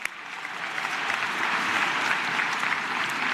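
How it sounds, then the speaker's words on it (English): Sustained applause from a large audience at a high school graduation ceremony, a dense even wash of clapping that rises quickly and holds steady throughout, without distinct voices. "Let's give a round of applause for this wonderful presentation"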